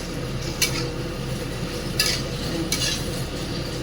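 Taro stolons being stirred in a frying pan, three short scraping clinks of a utensil against the pan over a steady low sizzle.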